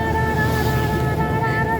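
A safari jeep drives along a village road in Nepal, its engine a steady, close droning rumble heavily mixed with wind noise throughout the short stretch.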